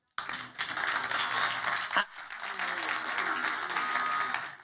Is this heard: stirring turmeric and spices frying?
no